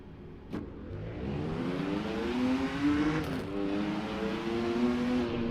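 Race car engines drone and rev in the Rennsport sim racing game as other cars sit on track in a multiplayer lobby, a layered mid-level hum of several engines with rising and falling pitch.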